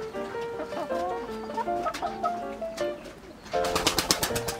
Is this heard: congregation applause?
no